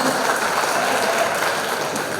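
Steady audience applause at a seminar in Versova, Mumbai, a dense, even patter of many hands clapping loudly without a break.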